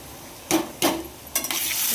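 Spoon stirring ground peanut powder into a cauliflower and potato curry frying in a pan, a few distinct scraping clinks against the pan over a low, steady sizzle.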